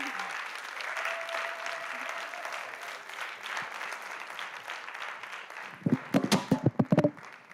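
Broad steady applause from an audience at a researchers' grand prix event, continuous dense clapping that swells and fades, then ends in a few louder, closer claps.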